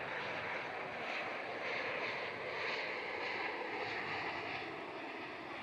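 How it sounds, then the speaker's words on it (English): A Virgin Boeing 737 jet arriving at Melbourne Airport from Adelaide, a steady, broad roar of engines holding loud and even throughout with no voices. "Virgin Boeing 737 in from Adelaide."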